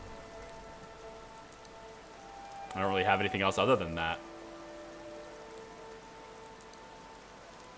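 Steady rain falls in the Skyrim video game, a soft continuous hiss under a voice talking.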